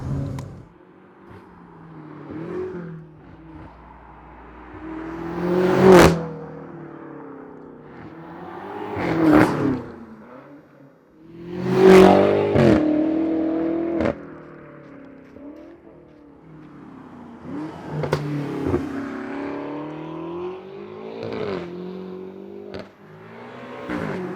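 A BMW M8 Competition with an Akrapovic cat-back exhaust revs repeatedly, several sharp climbs and falls in engine pitch with loud peaks against a quieter idle between them.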